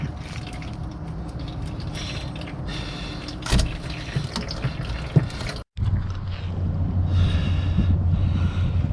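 Engine oil drains from a 2013 Kia Soul, a steady trickle with occasional clunks and handling noises nearby, briefly interrupted before the flow continues.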